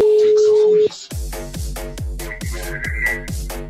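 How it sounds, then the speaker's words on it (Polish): A telephone places an outgoing call from a live radio studio: a steady dial tone cuts off, then a string of short clipped tones and pulses follows, loud and close. "To ostatni telefon, który wykonuję dzisiaj."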